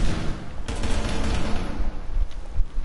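Rapid bursts of automatic gunfire in Rainbow Six Siege on PS4, loud and continuous with sharp cracks throughout, no talk over it.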